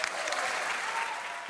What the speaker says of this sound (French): La ministre de la Culture qui a fini par être applaudie, Rima Abdul-Malak.